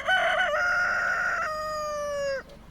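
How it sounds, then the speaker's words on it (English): A rooster on a rural farm crows once, close and loud, in a single drawn-out call that holds and then cuts off sharply, with no other sound around it. "Even the rooster makes an important announcement."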